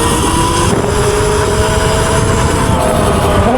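A Qronge X1 Spark 60 volt electric bike accelerates in mode 3, giving a steady loud whine with rising motor tones and heavy wind rush, continuous and close for a few seconds.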